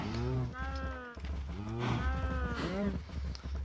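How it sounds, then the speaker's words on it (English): Cows in the video game Minecraft moo repeatedly, several drawn-out lowing calls that overlap and follow one another at close range, with no talk over them. "I hurdled up some cows and I bred some cows, and now we got a lot of cows."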